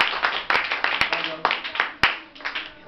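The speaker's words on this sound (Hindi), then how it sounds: "ताली बजाओ जरा" Hands clap in a series of sharp, close claps at an uneven rhythm, loud and crisp, with faint voices in the background between them.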